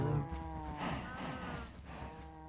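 Cows mooing in the Minecraft video game, a drawn-out, close bovine moo with layered calls, fairly quiet and heard alone.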